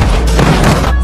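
A hydraulic crusher crushes a military truck in a loud, continuous crunch broken by several heavy thuds and cracking impacts, close and forceful throughout.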